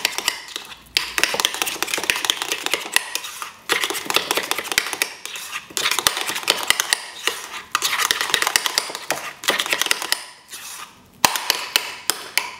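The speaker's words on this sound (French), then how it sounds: "On mélange le tout." Spoon or whisk clinking and scraping steadily against a bowl or pan while pea purée is mixed with cream, salt and pepper, a busy rhythmic metallic stirring with brief pauses.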